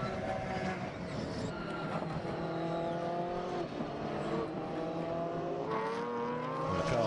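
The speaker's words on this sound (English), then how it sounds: "We'll check in a second as the car goes back out onto the road." The number 9 Porsche race car leaves the pits at Circuito de Navarra during a 2011 Blancpain Endurance Series race, its engine droning steadily with rising and shifting pitch over a continuous, fairly distant roar.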